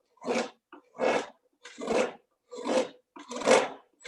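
A wood gouge shaves and shapes the surface of a carved spoon bowl held on a spoon mule, giving five loud, rasping strokes about a second apart, each a rough scraping burst with short pauses between.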